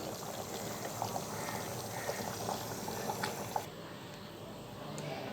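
Quiet bubbling with small pops and gurgles of mini mutton biryani simmering in a pressure cooker, with a faint hum behind it.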